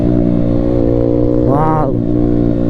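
A modified Bajaj Pulsar N160 motorcycle with an aftermarket exhaust idles with a steady rumble, then revs sharply once in a brief rising burst before settling back, close by.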